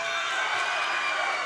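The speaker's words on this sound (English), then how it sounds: "South Tama's crowd trying to get some energy going here in the Roundhouse" A home crowd cheers at a high school varsity volleyball match in a gym called the Roundhouse, a brief burst of steady shouting and whooping voices, fairly loud and even throughout.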